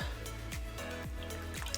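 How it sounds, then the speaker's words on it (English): Water is poured into a coffee maker's reservoir, a steady trickling fill with a few drips and gurgles, close and alone. "Fill the water up."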